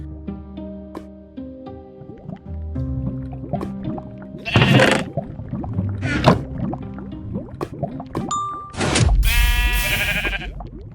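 Video game sheep give a few short, loud bleats amid soft musical tones and scattered clicks, the bleats rising sharply over a quiet background with no talk.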